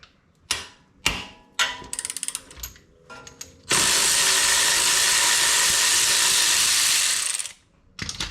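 A ratchet wrench works a 19 mm bolt on a Toyota FJ Cruiser lower control arm and shock mount, short bursts of quick metallic clicking with pauses, then a long loud hiss, close up.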